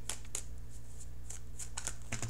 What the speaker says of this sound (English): let's shuffle for that outcome card